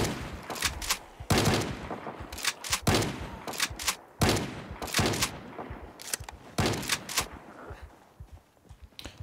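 Repeated gunfire from a Project Zomboid multiplayer session at Fort Redstone, with bursts of loud sharp shots in irregular clusters throughout, some rapid volleys close together, with no talk over them.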